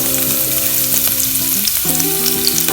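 Garlic frying in oil in a pan for a Thai pineapple fried rice with prawns, giving a steady, close, loud sizzle throughout with faint stirring clinks and no speech.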